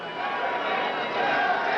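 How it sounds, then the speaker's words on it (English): Boxing arena crowd roaring during the Larry Holmes vs Trevor Berbick heavyweight fight, a dense, steady wash of cheering that swells slightly toward the end, with a voice faintly mixed in. "listen to the crowd"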